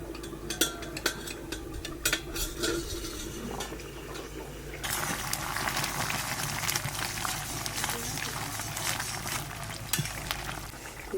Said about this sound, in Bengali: ঢাকনাটা তুলে দেই কিরম হয়েছে।